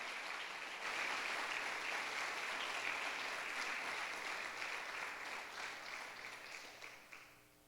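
A church congregation applauds during a Spanish-language service, a sustained, moderately distant burst of clapping that fades out toward the end.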